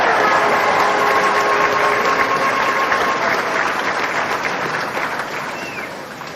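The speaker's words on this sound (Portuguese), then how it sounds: "como por exemplo as palmas da nossa plateia" Steady, loud audience applause from a podcast studio crowd, continuous clapping that holds throughout and tapers slightly toward the end, with no talk.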